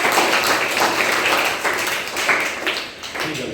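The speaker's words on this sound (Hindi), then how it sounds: "ताली बजाओ" Children in a relationships class clap together, a close, dense patter of hand claps that holds steady for a few seconds with little talk.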